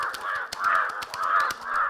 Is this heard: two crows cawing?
yes